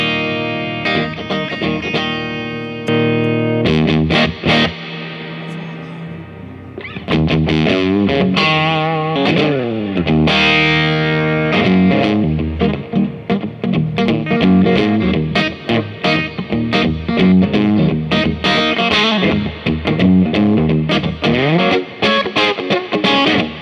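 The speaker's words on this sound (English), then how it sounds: "turning up the gain until it gets into some crazy psychedelic, spitty, chewy 60s fuzz" Electric guitar through an MXR Way Huge fuzz pedal set for a psychedelic, spitty 60s fuzz tone: loud, saturated riffs and sustained bent notes, with a short pause before the playing resumes.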